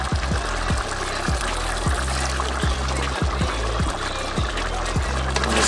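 Vinegar is poured into pork adobo in a pot, giving a steady, continuous liquid pour over a low simmering rumble, with faint ticking taps recurring throughout.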